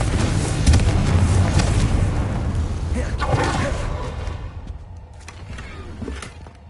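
A Confringo fire spell blast in the Hogwarts Legacy video game, a deep booming explosion with rumbling low end and crackling debris that gradually fades out over several seconds.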